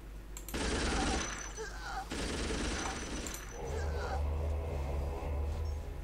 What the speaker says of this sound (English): God, I love a good machine gun.